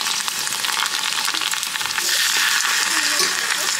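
Crunchy balls frying in a pan on a van stove, with a loud, steady, close hiss and crackle of hot oil that grows slightly denser partway through, and no voices.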